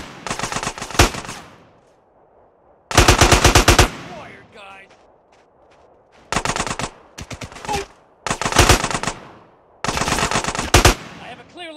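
Machine gun fire in the video game GTA San Andreas Definitive Edition comes as several loud, rapid bursts of one to two seconds each, separated by short pauses.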